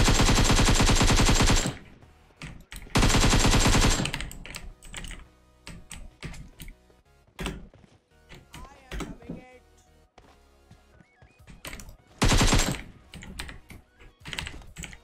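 Rapid automatic gunfire bursts in PUBG, loud clustered volleys separated by quieter gaps, with a voice talking in between.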